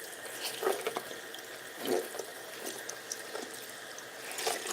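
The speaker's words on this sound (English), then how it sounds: "finishing washing my sponge that I used on my face and washing my hands" Tap water runs steadily into a sink while a face sponge and hands are rinsed, a continuous close splashing with small swells and drips, no talking.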